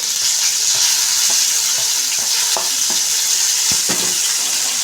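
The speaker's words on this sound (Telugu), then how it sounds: "ఇప్పుడు టమాటాలు వేసుకున్నాము దీంట్లోకి" Tomatoes frying in a pan for tomato rice, a loud, steady sizzle with soft scrapes of stirring at intervals, close and without talk.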